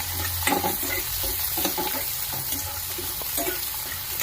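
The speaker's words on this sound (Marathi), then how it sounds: "कढीपत्ता कांदा व्यवस्थित परतून घ्यायचा पहिला" Curry leaves and onion sautéing in a pan with a steady close sizzle and intermittent scrapes of a stirring spoon, no voices.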